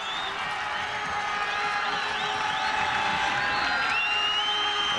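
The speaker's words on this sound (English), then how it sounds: "The crowd making a little noise on 3rd down and 5." A football stadium crowd makes a steady roar of noise on third down during a Hawaii Warriors versus Tulsa Golden Hurricane game, with scattered whoops and cheers throughout.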